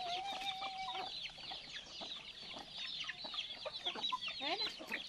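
Chickens on a farm cluck and squawk in quick, overlapping bursts, close to the microphone and fairly soft, with a few higher calls and rooster-like cries mixed in.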